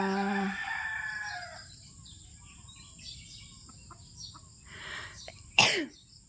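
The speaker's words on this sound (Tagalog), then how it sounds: "Napakaganda ng huni ng mga ibon, mga manok." In the countryside in the morning, a rooster crows once at the start, followed by scattered bird chirps, then a short sharp knock near the end.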